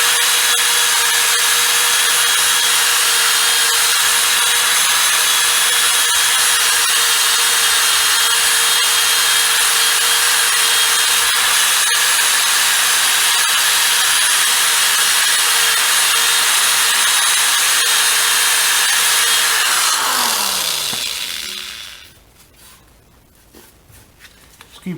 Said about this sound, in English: Here's the wire brush I'm going to use on the end of my drill.